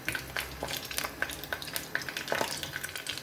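Hot oil for Ofada stew sizzling in a pot with soft stirring scrapes and occasional light clinks over it, a faint, steady crackle close by without talk.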